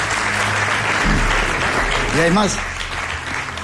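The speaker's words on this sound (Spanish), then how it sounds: "Os pido un aplauso para este ser tan especial" Audience applause fills a studio, a steady wash of clapping with someone speaking briefly over it partway through.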